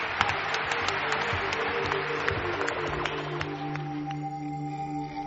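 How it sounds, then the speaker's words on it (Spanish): Studio audience applauds a guest named Mariano on a Spanish radio-style talk programme, with a dense wash of clapping that fills the whole stretch and slowly thins toward the end while a steady tone lingers underneath. "Mariano, nuestro aplauso."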